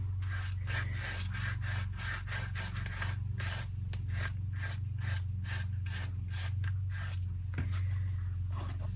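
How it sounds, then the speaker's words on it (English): Paint scraped across a mixed media junk journal cover, a continuous close rasping rub with repeated strokes over a steady low background hum, no voices. "what I'm going to do is I'm going to scrape that across"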